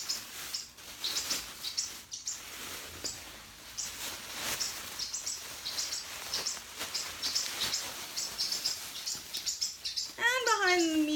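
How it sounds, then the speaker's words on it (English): Repeated high chirps and tweets from a small pet bird indoors at dusk, fairly close, chattering in quick bursts over a faint background hiss. "And behind me, you can hear my little bird kicking in, Itsy."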